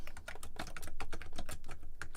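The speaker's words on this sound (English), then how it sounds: "Sorry for the clacking, because I have a giant keyboard." Large computer keyboard clacking under steady, fast typing, with dense close rhythmic key strikes and no voices.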